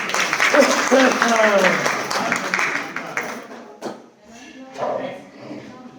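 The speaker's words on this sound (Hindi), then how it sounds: "जोरदार ताली बजाओ।" Audience at a New Year's Day gathering breaking into loud applause that swells over a few seconds, then thins to scattered claps, with voices talking over it.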